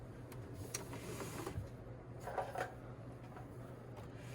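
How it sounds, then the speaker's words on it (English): An overlock serger with its trimming blade fitted runs steadily, stitching both sides of a dress fabric seam. It makes a faint, continuous mechanical whir with no talking. "go ahead and serge both sides"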